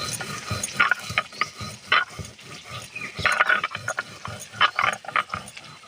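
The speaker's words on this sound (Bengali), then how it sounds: "শুকনো খোলায় যে মশলাটা ভেজে নিয়েছিলাম বেটে নেব।" Dry-roasted spices being ground on a stone slab, a close rhythmic grinding of stone rubbing on stone in repeated strokes, with no talking.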